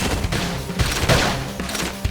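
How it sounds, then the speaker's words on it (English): Gunfire during combat in the video game Xenoblade Chronicles X rattles off in rapid bursts with heavy thuds over a busy battle soundscape. "Knock him over with gunfire."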